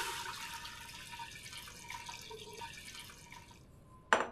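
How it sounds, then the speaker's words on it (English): Half a gallon of water pours into a cooking pot of spices for turkey brine, a steady splashing stream that ends with a sharp splash, with no talking. "we can go ahead and add our water"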